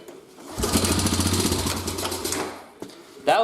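An old quad or mower engine catches on the first pull and runs in a rough, rapid chugging burst for about two seconds before sputtering out, with a few faint knocks and handling noises afterward.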